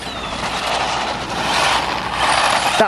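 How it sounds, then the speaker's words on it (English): Tamiya Manta Ray RC car with a 15-ton motor racing fast, a loud steady high-pitched electric whine that swells over a few seconds, with a short rising squeal at the end. "15-ton motor is really sending it."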